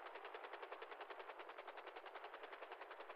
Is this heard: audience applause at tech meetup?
no